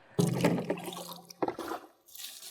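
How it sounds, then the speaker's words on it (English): Water splashing and sloshing as it is thrown into a sawmill workshop, a burst of liquid followed by a second shorter splash and dripping, fairly close. "I'm just trying to throw water into the shop"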